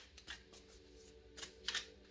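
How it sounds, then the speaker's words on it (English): Tarot cards being shuffled by hand give soft papery riffles and flicks in a few quiet bursts, close and faint over a low steady room hum. "as I'm shuffling your card for the month of April"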